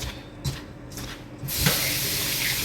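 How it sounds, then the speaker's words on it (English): Hands are washed under a running sink tap. A few soft knocks and splashes give way to a steady hissing stream of water, close by, with no talking. "Wash my hands."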